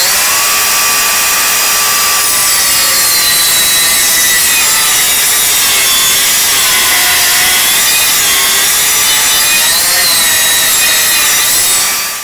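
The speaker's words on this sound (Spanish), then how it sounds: "Así que vamos a cortarlo en la sierra de banco." A table saw rips a thin wooden strip for interior laminate wall paneling, its blade whining steadily at a loud, close, continuous pitch for the whole cut with no talking.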